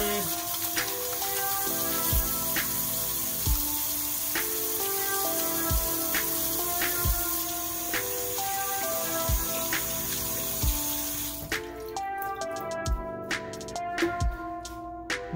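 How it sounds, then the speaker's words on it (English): Tap water runs steadily into a kitchen sink as hands are washed before cooking, a continuous splashing hiss with occasional knocks and shifts in the stream. "gotta wash the hands before we get started"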